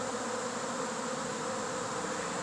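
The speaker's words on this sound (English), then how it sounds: "This has to be coming from a full hive somewhere to have this many bees." A swarm of honey bees hums in a steady, continuous drone, quite faint and without pauses, with no voices over it.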